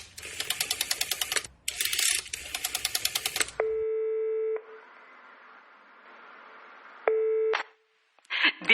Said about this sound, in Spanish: llama por teléfono a una de sus amigas